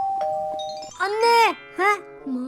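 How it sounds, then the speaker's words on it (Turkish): A bell rings in the Minecraft video game, giving a couple of clear, sustained tones, while a voice speaks over and between them. "Acaba zili çalınca mı gidiyorum?"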